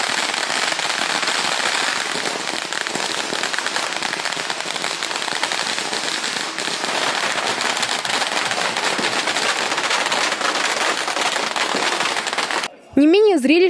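A long, dense barrage of firecrackers crackles and pops without pause during an Asian festival procession with a palanquin, loud and continuous, before breaking off into a brief different sound at the end.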